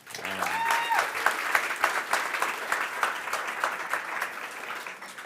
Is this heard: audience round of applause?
yes